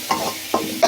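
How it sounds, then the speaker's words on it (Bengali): Dried fish pieces frying with turmeric and salt in a pan, a low steady sizzle broken by three short scraping stirs, close and alone. "শুটকিটার সাথে ভালো করে ভেজে নেব।"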